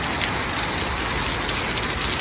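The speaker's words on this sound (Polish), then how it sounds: "Pada." Steady rain falls close by in a dense, even hiss that never breaks, with no voices over it.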